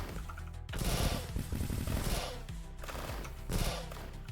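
Rapid gunfire in the video game Deep Rock Galactic, with dense automatic bursts rattling continuously and swelling in two louder waves, mixed with game effects at moderate volume.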